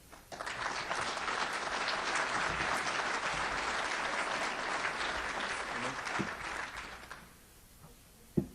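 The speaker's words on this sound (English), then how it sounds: "Please join me in a round of applause." An audience at a Missouri pork industry awards banquet applauds steadily for about seven seconds, a dense, even wash of clapping that fades out, followed by a quiet pause and a brief thump.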